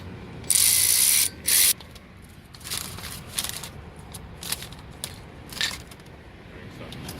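Two bursts of ratchet clicking from tightening brake bolts on a 2011 Ford Mustang during a brake job, a long run then a short one, loud and close, followed by quieter shop handling noises.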